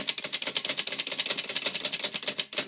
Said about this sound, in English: The thing you can do is push the backspace button, which is right here.